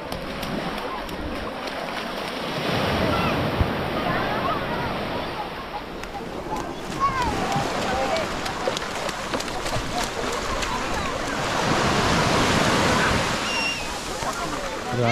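Sea waves wash onto the shore at a beach resort on Samal Island, a broad steady surf noise swelling and easing throughout, with people talking nearby over it.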